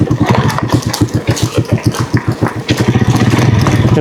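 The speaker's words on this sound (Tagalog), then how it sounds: "Ganda rin yung tunog ng muffler." Close, loud rhythmic exhaust putter from a Rusi TC150 motorcycle muffler, a steady chugging beat at low to mid revs that quickens slightly toward the end.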